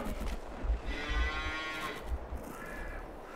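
Cows on a farm in the Farming Simulator 22 video game give a faint, drawn-out moo over soft low background rumble.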